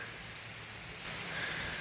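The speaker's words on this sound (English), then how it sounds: "wouldn't you know, it's starting to rain right now" Rain beginning to fall outdoors, a dense steady hiss of drops on surfaces that swells slightly louder partway through, continuous and close with no voices.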